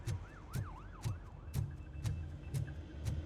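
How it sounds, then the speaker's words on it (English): Wailing police siren from RoboCop: Rogue City, its pitch sweeping up and down in repeated arcs, clear but somewhat distant as if heard from a basement, over a steady thumping in-game pulse with regular sharp hits. "Oddly clear police siren I can hear from the basement."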